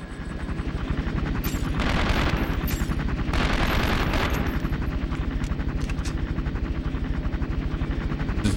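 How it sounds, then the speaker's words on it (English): A helicopter in the video game 24: The Game thumps with a rapid, continuous rotor beat, loud and close, mixed with bursts that resemble gunfire, with no talk. "Where's the helicopter?"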